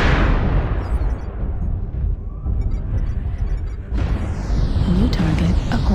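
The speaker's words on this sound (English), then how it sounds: "Warning incoming missile." Incoming missile explosion in a mech combat video game, a loud, close booming blast with a rumbling, decaying roar that swells again with further impacts near the end.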